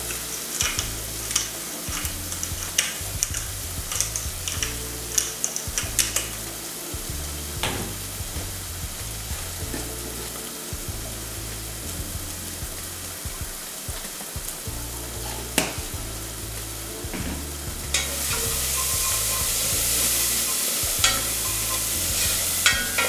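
Garlic, black pepper and paprika frying in a pan, a constant close sizzle throughout with frequent scraping and knocking of a stirring utensil, the hiss growing louder and fuller toward the end.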